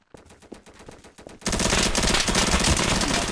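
Rapid automatic gunfire on a video game firing range: sparse separate shots at first, then a sudden loud, dense, continuous burst of firing that fills the rest of the moment, with no talking.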